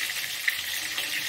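Vegetables sizzle in a hot pan, a steady close hiss of frying over a brief moment.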